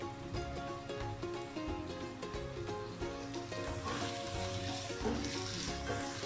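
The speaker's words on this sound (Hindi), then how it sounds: "अब मैं इसे अच्छे से भून लूंगी और कीमा हमारा रेडी है" Keema (minced meat) frying in a pan over a high flame, a continuous crackling sizzle with stirring scrapes and clinks running steadily throughout, no voices.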